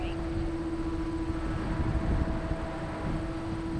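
A large E-flite Carbon-Z Cub SS radio-controlled airplane flies overhead at a real flying field, its electric motor giving off a steady, sustained whine against a constant wash of background noise.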